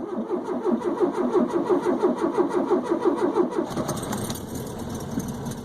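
A cold VW Beetle Type 1 engine, gearbox in neutral, cranks with a steady rhythmic churn for about three and a half seconds, then catches and settles into a running idle, close and fairly loud.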